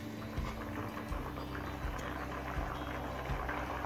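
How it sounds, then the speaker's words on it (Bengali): Navaratna pulao liquid boils on a high flame, a steady close bubbling and popping simmer that fills the whole stretch with no talk. "এবার হাই ফ্লেমে কিছুক্ষণ ফুটতে দেব"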